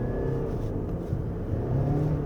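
A 2023 Lexus RX350h hybrid SUV in eco mode accelerates hard, giving a steady mid-low engine drone with a faint whir, heard from inside the cabin and rising slightly toward the end.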